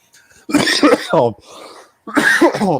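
Bursts of voiced, laughing coughs from a man close to the mic, with a brief breathy pause between them, loud and choppy.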